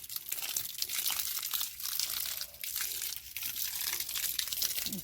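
Irrigation water rushes under pressure through a grape vineyard, making a continuous hissing, splashing wash with small fluctuations. It sounds close and moderately loud, with no voices.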